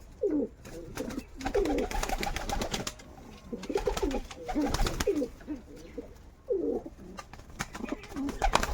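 Domestic pigeons in a loft coo in repeated low, throaty bursts that come close and fairly clear, several birds overlapping, with short quiet gaps between calls and a faint rustle behind them.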